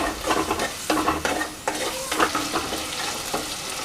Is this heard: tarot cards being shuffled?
no